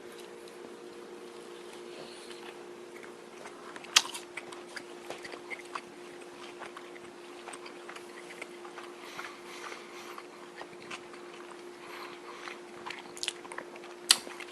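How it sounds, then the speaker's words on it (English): Someone bites and chews a Subway Western and Cheese breakfast sandwich up close, soft crunchy bites at the start and near the end, with quiet chewing clicks between them over a faint steady hum. "I'm going to take another bite and see if I can taste the ham."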